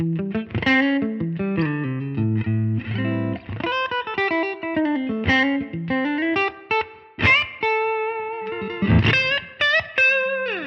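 Distorted electric guitar with Seymour Duncan Joe Bonamassa pickups, played through a Tonex amp simulator, plays a melodic lead line with bends and sustained notes, heavily saturated and drenched in effects.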